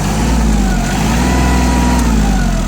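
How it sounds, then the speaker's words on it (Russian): Japanese tractor engine held at 2500 rpm, its top speed, running steadily and loud with a continuous low hum and no break across the clip. "2500 оборотов. Фактически максимальные обороты этого трактора."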